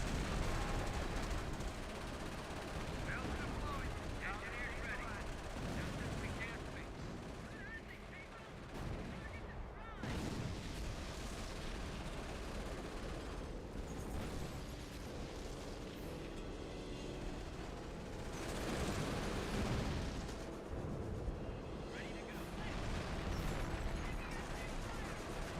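Dense, continuous gunfire and heavy explosive bursts from a war video game, with loud surges around the middle and toward the end, layered under occasional talk.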